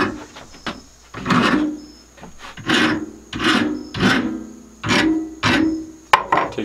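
Steel file cutting a chamfer on a gun barrel: rhythmic rasping strokes, about nine close, loud passes at a steady pace, each a gritty scrape that fades as the stroke ends.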